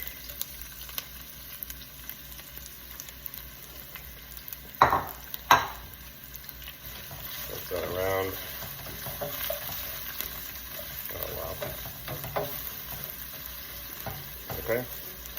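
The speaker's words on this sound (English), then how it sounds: "So, got olive oil in a pan, add the onions and the garlic." Onions and garlic fry in olive oil in a pan, a steady close sizzle with a few sharp clinks of utensils against the pan and occasional stirring.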